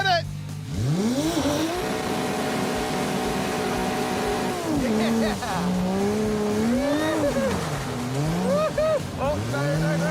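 A Dodge Charger slides into oversteer and recovers, its tires squealing loudly and continuously in rising and falling pitch over a droning engine, with people talking over the noise.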